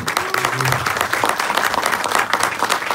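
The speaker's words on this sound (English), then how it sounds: "Can you please give him a round of applause," A dense crowd applauds steadily for a few seconds, many hands clapping at once with a faint murmur of voices underneath.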